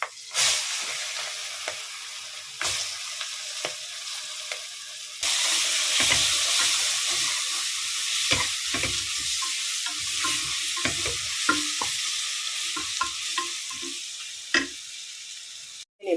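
Onions frying with mutton masala in a pan for mutton biryani, a steady loud sizzle with bursts of stirring scrapes throughout, alone without talk.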